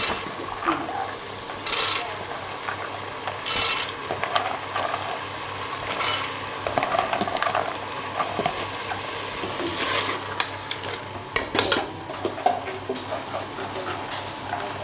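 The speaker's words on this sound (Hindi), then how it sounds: "इसको मैं दाल को इसके अंदर डाल देती हूँ" Lentils tipped into hot oil in a cooking pot and stirred, giving soft scraping, rattling and clinking from near by, irregular and moderate, while someone talks.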